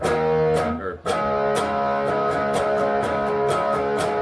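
Electric guitar chords ring out with heavy distortion, strummed in a steady rhythm with sharp percussive scratches between changes.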